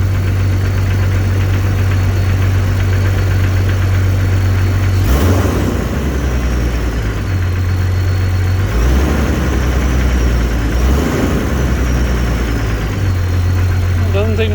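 A small engine idles with a steady low hum, and its idle is raised in a few brief surges before it settles back, running continuously and close.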